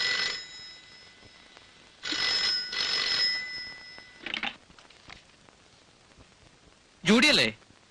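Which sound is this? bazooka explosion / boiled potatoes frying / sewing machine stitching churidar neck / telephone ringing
telephone ringing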